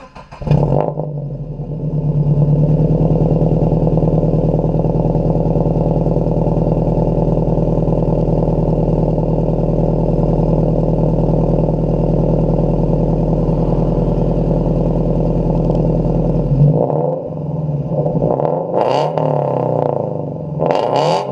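Scion FR-S engine fitted with a Nameless Performance front pipe holds a loud, steady rev with a deep droning tone for about fifteen seconds, then drops back with a few short blips at the end.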